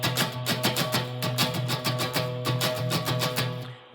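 Acoustic guitar is strummed aggressively on the pad of the finger, a steady run of hard, even chord strokes, close and with no talk, fading at the end.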